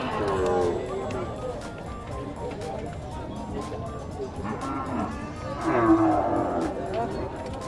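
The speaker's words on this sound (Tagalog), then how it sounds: "May kursonada dito sa baka ni Lilan." A cow moos in long, loud, drawn-out calls, one at the start and another near the end, while people talk nearby throughout.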